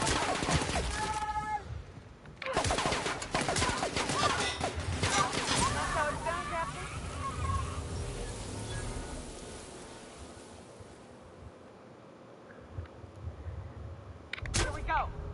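Gunfire from The Outer Worlds rings out in sharp bursts of shots and impacts near the start, again mid-clip and at the end, with a voice talking over the action.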